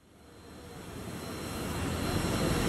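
An Iran Airtour passenger airplane on a Tehran–Kabul service in Afghanistan, its engine roar swelling steadily louder and nearer as it passes, with no talk.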